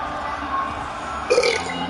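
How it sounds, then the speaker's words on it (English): A man lets out a single loud, close burp during a CBS broadcast of an NFL game between New England and Dallas, a short guttural croak rising over faint background murmur. "That was a loud burp."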